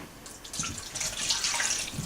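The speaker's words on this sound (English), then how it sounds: "Next we're going to add a cup of hot water." A cup of hot water is poured into a mixing bowl with brown sugar and olive oil for homemade pizza dough, a short, splashing, trickling pour that swells and stays steady.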